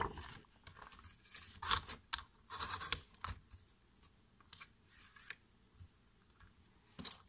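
Card being cut for a handmade hexagonal box, with a run of crisp scratchy snips and scrapes, two louder bursts in the first three seconds and a sharp one near the end, close and fairly quiet with no talking.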